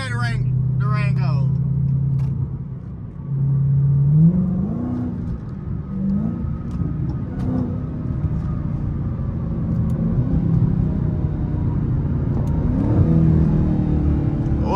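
A Dodge Durango Hellcat engine revs and drops through downshifts in traffic, a deep, rising and falling roar heard from inside the cabin, steady and fairly loud throughout, with people talking over it.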